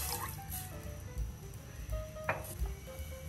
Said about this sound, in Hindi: दूध ऐड कर रहे हैं हम पैन में।